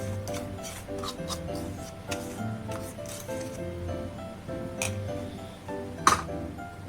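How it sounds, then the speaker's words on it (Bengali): Batter with powdered sugar stirred in a bowl for a palm (tal) cake, close and fairly quiet: steady soft rubbing and scraping strokes with occasional light clinks of utensil against the bowl, one sharper clink near the end. "এইভাবে নাড়তে থাকবে।"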